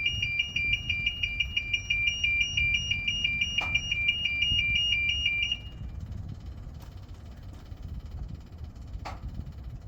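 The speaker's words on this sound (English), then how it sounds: "turn the key to the first position, and we'll get a siren for a few seconds" A key-on warning siren on a New Screen USA TC5036 sounds as a steady, loud electronic tone for about five and a half seconds, then cuts off, leaving a low diesel rumble and faint clicks.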